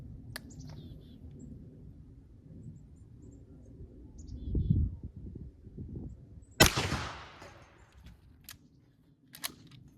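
A 12 gauge Remington slug is fired at body armor from 10 yards outdoors, a single sharp loud crack with a brief ringing decay, surrounded by birdsong and soft outdoor background.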